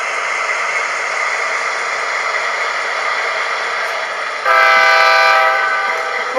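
An MTH Union Pacific Dash 9 model locomotive hums steadily with a constant motor whine, then its horn sounds loud and multi-toned for about a second and a half before the running hum resumes.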